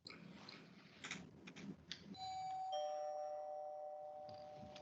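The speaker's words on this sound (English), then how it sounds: "Please ring bell for service." A motel front desk service bell rings once, near and clear, with a sustained metallic ring that lingers and slowly fades after a few soft handling knocks.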